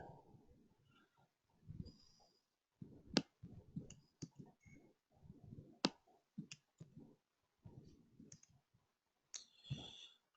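Computer keyboard typing in quiet bursts, irregular clusters of soft key clicks with a few sharper taps, faint and close.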